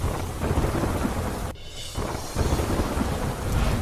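A heavy thunderstorm brings a loud, dense downpour and rumbling thunder that fill the scene, briefly dipping for a moment midway before the roar of rain returns at full strength.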